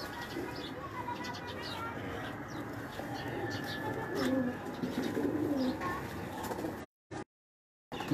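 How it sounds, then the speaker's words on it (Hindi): Soft, low coos of Salkoti pigeons rise over a noisy rooftop background, with faint chirps scattered about, before the sound drops out briefly. "सलकोटी कबूतर है माशाल्लाह, बड़े नायाब कबूतर है मेरे"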